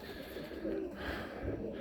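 Soft, low racing pigeon coos repeat a few times, faint and muffled against a quiet outdoor background.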